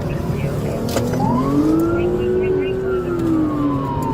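A police siren wails, rising and falling over loud road and engine noise, heard from inside a moving vehicle.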